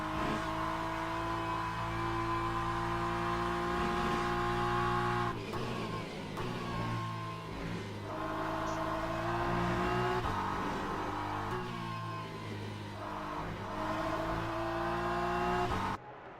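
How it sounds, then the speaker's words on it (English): A BMW race car in Le Mans Ultimate at Sebring brakes hard, then picks up throttle again, its engine note dropping and then climbing through the gears. The engine is loud, close and steady, with no voices. "Tom Curtin onto the brakes, easing off the brakes onto the accelerator, keeping the car nice and tight, easy on the accelerator, and then he goes full throttle"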